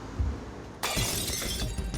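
Tempered glass front door of a police station smashed with a hammer: a sudden loud shattering crash after a quiet moment, followed by a sustained spray of breaking, tinkling glass.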